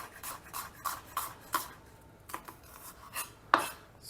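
A knife cuts half an onion into thick slices, giving a series of quiet, irregular crisp cuts and taps on the board, with one sharper knock near the end.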